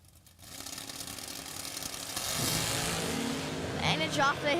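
A Firebird and a Camaro drag race car launch together at the starting line, engine roar building from near silence into a loud sustained blast with a Camaro wheel stand, a commentator talking over it.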